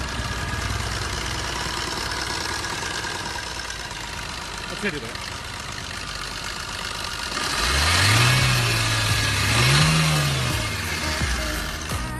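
A car engine idles, then revs up twice in rising and falling swells, fairly close, with steady background noise throughout.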